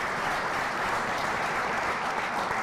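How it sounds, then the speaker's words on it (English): An audience at a Black male development symposium applauds, a dense, sustained wash of clapping from many hands holding steady and fairly loud throughout, with no voices standing out. "Clap it up for the young brother."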